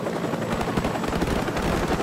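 A support helicopter in the game Call of Duty: Modern Warfare, its rotor a loud, rapid, steady thudding chop that fills the whole moment, close and unbroken.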